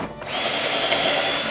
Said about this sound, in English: before I drill into the boards that I already cut, I am going to run a couple of test holes